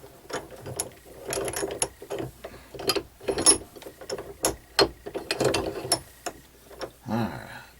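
A ratchet wrench tightening something, its pawl giving off rapid bursts of close, crisp clicking in uneven spurts with short pauses between strokes.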